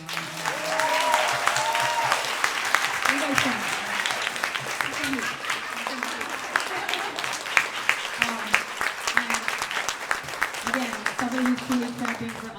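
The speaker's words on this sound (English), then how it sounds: "just do a round of applause for Arlan?" An audience at a women of color startup roadshow event in Los Angeles gives a round of applause, steady moderate clapping throughout with voices speaking over it.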